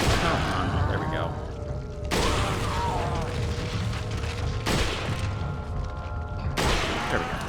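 Three loud rifle shots in the Resident Evil 4 video game, each a sharp boom followed by a long echoing ring, spaced about two and a half seconds apart.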